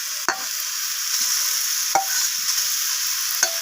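Fried potatoes and soybean chunks are stir-fried in a pan, giving a steady sizzle with a few sharp scrapes of the spatula against the pan, alone and close.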